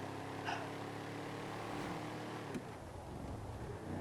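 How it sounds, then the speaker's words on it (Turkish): Heavily modified car in a Grand Theft Auto bunker mission, its engine a steady low drone with a faint tonal hum, moderately loud and continuous, with a brief thump partway through. "Bu full modifiyeli bir araba."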